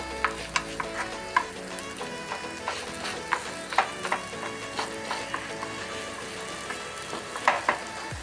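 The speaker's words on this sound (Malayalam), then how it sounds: "അങ്ങനെ നമ്മൾ മുട്ടയും മുരിങ്ങയിലും വെച്ചിട്ടുള്ള ഫ്രൈ ഇത് റെഡിയായി." Egg and drumstick leaves (moringa) frying in a pan, a steady soft sizzle broken by repeated sharp taps and scrapes of a spatula stirring and turning the food, close and moderately quiet with no talking.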